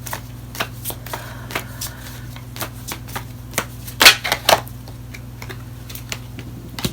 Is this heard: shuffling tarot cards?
yes